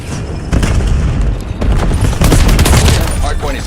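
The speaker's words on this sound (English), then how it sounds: "Cluster grenade out." Rapid gunfire and booming cluster grenade explosions in a Call of Duty Hardpoint match, loud and dense throughout with overlapping blasts, while a voice talks over the battle.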